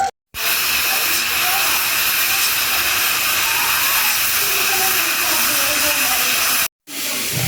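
Chicken breast cooking in a pan on the stove, giving off a steady, broad steam hiss that runs almost unbroken at close range, with two brief drops into silence.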